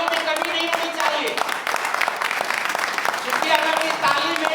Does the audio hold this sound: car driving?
no